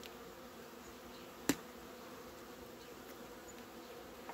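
Honeybees buzzing in a dense continuous drone as they are shaken off a hive frame in spring, with one sharp knock midway and the swarm hum holding steady throughout.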